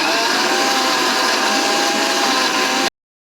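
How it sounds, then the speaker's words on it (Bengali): A kitchen mixer grinder whirs loudly and steadily while grinding pre-roasted spices into a paste, with a high motor whine that holds constant before cutting off abruptly near the end. "আমরা মিক্সি নিয়ে নিয়েছি"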